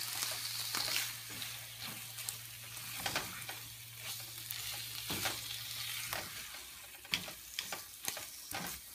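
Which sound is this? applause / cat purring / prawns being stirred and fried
prawns being stirred and fried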